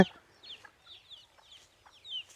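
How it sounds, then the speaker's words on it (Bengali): A hen with her chicks clucking in a village yard beside potato fields, with a rooster nearby; soft, brief clucks and faint peeping calls come and go at a moderate distance, fairly quiet overall. "এই যেদিকে দেখা যাচ্ছে মুরগি তার বাচ্চা কাচ্চা নিয়ে এসেছে আবার পাশে একটি মোরগও দেখা যাচ্ছে"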